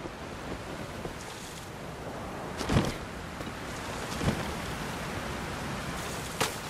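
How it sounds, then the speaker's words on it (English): Steady broadband rushing of a waterfall in The Legend of Zelda: Tears of the Kingdom, a continuous wash of falling water with a few brief louder splashes or bursts, no talking. "there's this waterfall"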